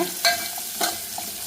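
Sweet potato and green chillies are stirred into a tamarind gravy with small onions. A few scraping strokes sound under a steady light sizzle, with no talking.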